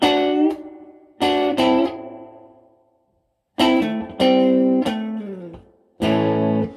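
A Gretsch guitar through a vintage Marshall amp with reverb strikes several loud, overdriven chords, letting each ring and decay into a lingering reverb tail before the next stab, with no voices.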